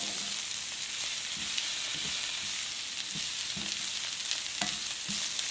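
Roughly chopped spinach, about two cups, sizzles and fries steadily in a pan for chicken hara bhara, with a continuous hiss and occasional soft stirring knocks throughout.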